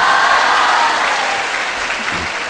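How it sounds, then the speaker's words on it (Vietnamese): Steady, loud applause from an audience at a Buddhist question-and-answer talk, dense clapping holding evenly for the whole stretch and fading slightly at the end. "Các bạn hãy cho một tràng tay nữa để cảm ơn bạn của mình"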